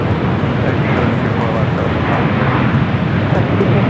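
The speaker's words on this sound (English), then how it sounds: "We're going to go to the next arrival, which is United. Flight coming from Denver, 737 MAX 9" A United Boeing 737 MAX 9 arriving at LAX from Denver, a loud, steady broadband jet roar filling the scene with constant engine rumble and wind-like noise.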